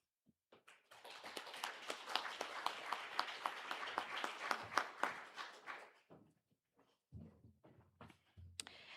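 Audience at a medical laboratory science white coat ceremony breaks into sustained applause for several seconds, a dense mass of clapping that builds, holds, then tapers into a few scattered last claps and quiet room noise.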